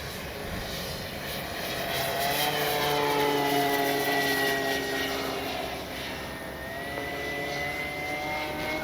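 An RC CNHL Super Tucano model airplane climbs and flies in a crosswind, its propeller motor whining in a steady rising and falling tone that swells louder as it passes closer, then eases slightly.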